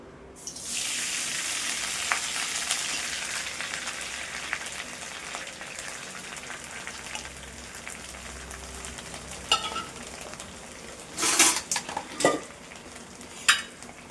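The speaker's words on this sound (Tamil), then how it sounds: "கீரையை லைட்டாக நம்ம வறுத்து எடுத்துக்கலாம். நல்லா வதங்கணும் இந்த எண்ணெயில்." Drumstick leaves fry in oil, a steady crackling sizzle for the whole stretch. Sharper pops and stirring clatters stand out near the end.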